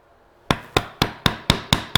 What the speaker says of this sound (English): Keep downward pressure on the chisel as you start to pound so that it doesn't bounce out on you